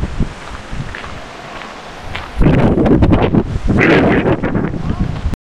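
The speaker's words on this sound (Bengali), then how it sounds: "ফাঁকা জায়গা যেহেতু প্রচন্ড হাওয়া চলছে।" Strong wind gusting across an open hilltop at Tapang in Odisha, buffeting the microphone: a fairly quiet rumble at first, then a sudden loud, sustained roar from about halfway through that keeps surging to the end.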